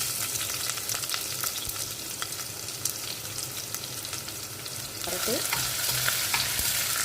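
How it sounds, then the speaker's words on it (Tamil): Oil sizzles steadily as chopped onions fry, with occasional stirring scrapes and a brighter burst of crackling partway through. "அது லேசாக அந்த எண்ணெயில் வதங்கினோடனே நறுக்கி வச்ச வெங்காயம்,"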